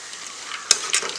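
Boondi batter drops frying in hot oil for a laddu, a steady close sizzle with two sharper bursts of crackling as more batter hits the oil, no voices.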